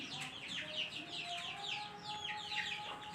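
A white-necked hen clucks in quick, repeated calls just after laying an egg. The calls are fairly close but soft, and they come in an uneven rhythm over a few seconds.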